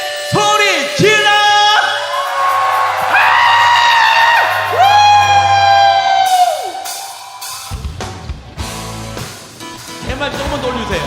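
Worship congregation at a Korean family revival service shouting and whooping in a loud, sustained burst of yelling voices, then fading into scattered cheers and applause-like clatter.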